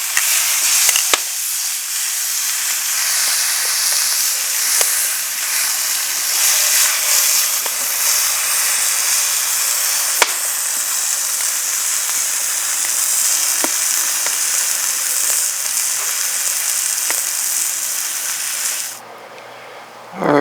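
Steaks sizzle on an open-fire park grill, a bright and steady hiss with occasional soft crackles that runs close and unbroken for about twenty seconds before cutting off.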